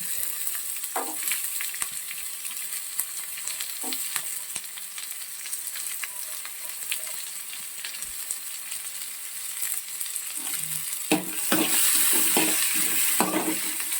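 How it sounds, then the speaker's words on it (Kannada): Chopped capsicum frying in a pan for hotel-style Schezwan fried rice: a steady, bright sizzle with occasional stirring clatters, growing louder and busier toward the end, no voices. "ಸೊ ಕ್ಯಾಪ್ಸಿಕಮ್ ಆ್ಯಡ್ ಮಾಡಿದ್ದೀನಿ. ಇದೊಂದು 2 ನಿಮಿಷ ಫ್ರೈ ಆಗಲಿ."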